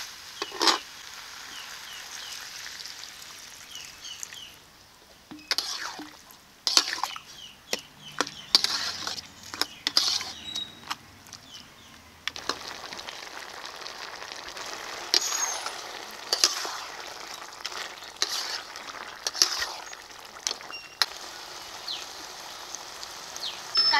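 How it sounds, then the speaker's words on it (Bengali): Katla fish head and vegetables simmering in a little water in a pan, heard as a steady soft sizzle and bubbling with scattered clinks and scrapes of stirring throughout, no voices. "এখন অল্প করে জল দিয়ে ভালো করে সিদ্ধ করে নেব।"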